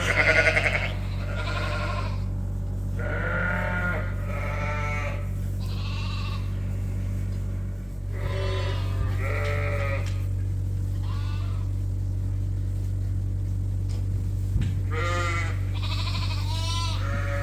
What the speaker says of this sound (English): So all the Suffolk lambs that are at the back of the main barn that are the bottle babies